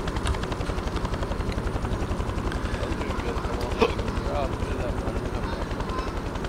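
Continuous rotor thump of a helicopter in a multiplayer shooter game, steady and loud throughout, with a brief sharp bang midway and players talking over it.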